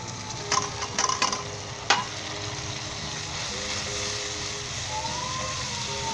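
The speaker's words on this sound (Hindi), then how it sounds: "चलिए दोस्तों इसे 3 से 4 मिनट मैं अच्छे तरीके से फ्राई कर लूँ।" Finely chopped peeled tomatoes fry in masala in a pan, with a steady loud sizzle and a few scraping stirs early on.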